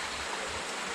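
Water flows beside the Chesterfield Canal with a steady, close rushing wash, brief and continuous with no voices.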